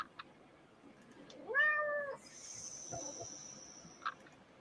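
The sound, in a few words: cat meowing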